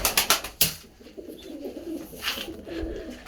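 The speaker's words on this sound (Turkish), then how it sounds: "Şöyle kuşları görün arkadaşlar." Pigeons in a backyard coop coo softly and repeatedly, with several sharp wing claps or flaps at the start, heard close and moderately loud with no talking.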